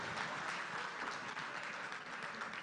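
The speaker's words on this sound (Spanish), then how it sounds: "Un aplauso para él, por favor." Audience applause at a public civic talk in Tacna, Peru, a dense, steady wash of many hands clapping at moderate volume that fills the whole short stretch without pause.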